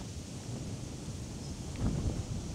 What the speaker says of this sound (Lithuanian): Čia vėjas pakilęs labai.